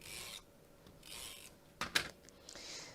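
Sandpaper rasps back and forth across a sheet in short, quiet strokes, with a couple of sharper scraping taps in between, close and otherwise silent.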